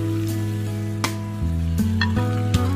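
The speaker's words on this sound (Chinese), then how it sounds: "炒香后再把煎好的肉片加进来" Pork slices, onion and tofu stir-fried in a hot pan give a loud steady sizzle, broken by several scraping stirs and clinks of the spatula, with no talking.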